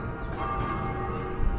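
Church bells ring in Pisa, heard from the old city wall as a faint, sustained metallic tone lingering over a steady outdoor rumble.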